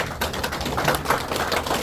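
Dense, steady crowd applause at a Korean Christian business leaders' seminar, many hands clapping at once as a continuous crackling wash for about two seconds with no pauses.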